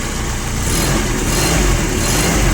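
A loud, close forklift engine revving steadily up, a 1.5-tonne Toyota, with a dense mechanical roar throughout and no pauses.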